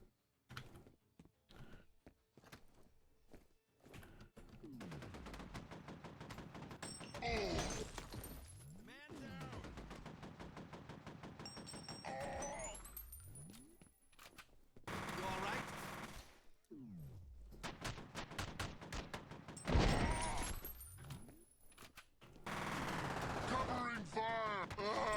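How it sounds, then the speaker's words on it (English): Assault rifle gunfire in the video game F.E.A.R. Perseus Mandate, repeated bursts of rapid shots interleaved with sweeping tonal effects and clatter, loud and close, with occasional talk over it. "First time using the regular assault rifle during this playthrough."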